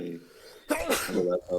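A single sharp sneeze bursts out between bits of nearby conversation, loud and close.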